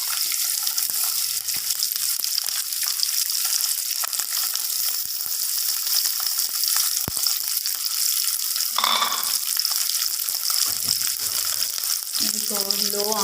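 Softened dried coconut cubes fry in a pan over a low flame for sheer khurma, giving a steady, close sizzle throughout with a few brief clinks and scrapes near the end.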